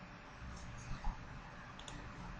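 A few quiet computer mouse clicks, isolated taps spaced apart against faint room noise, close but soft.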